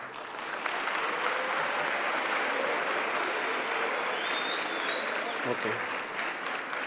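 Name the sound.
audience applause for the learners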